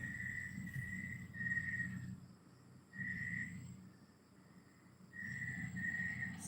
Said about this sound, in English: No, it's not lizards, but we have many insects outside.